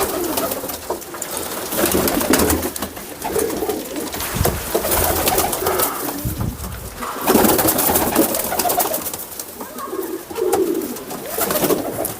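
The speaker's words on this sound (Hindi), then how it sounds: "आमिर भाई ले आए हैं इस कबूतर की मादी" Pigeons coo in soft, repeating throaty calls over a busy flutter and rustle of many birds, continuous and close.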